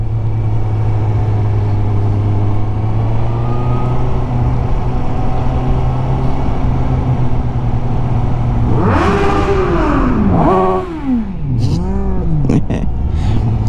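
A scooter engine idles steadily, then revs in several rising and falling bursts toward the end, loud and close with no talk.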